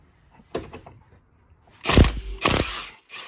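Impact gun breaking loose the crank bolt on a 1998 turbo Honda CR-V: a short rattle, then two loud, close hammering bursts of rapid mechanical impacts.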